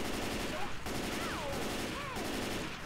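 Rapid gunfire from a zombie-survival shooter, Left 4 Dead 2, dense bursts of shots rattling continuously at close range, with short voice calls and whooshing effects threaded through the shooting.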